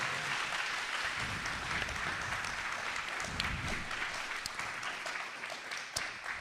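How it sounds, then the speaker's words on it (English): Audience applause at a live Seattle debate-tour event with Trump supporters, a steady dense wash of many hands clapping that holds evenly for several seconds with no talk over it. "please just round of applause for yourself for making this happen"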